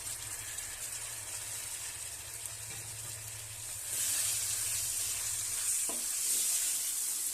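Four long-cut tomatoes hitting a hot pan for Bangalore-style chicken donne biryani, with a steady, close sizzle and scraping stirs that grow louder midway through, no voices.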